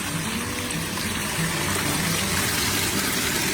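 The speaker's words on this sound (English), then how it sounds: "Behind the waterfalls." A garden pond waterfall pours and splashes steadily on a rainy day, a loud, close, unbroken rush of falling water with no voices.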